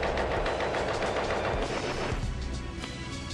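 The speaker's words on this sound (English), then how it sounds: "It has the Sopwith in its sights and fires." A World War I Fokker fighter plane fires its machine guns in a dense, loud, continuous rattle of rapid shots. It holds steady for about two seconds, then thins into a harsher, slightly quieter stretch of fire.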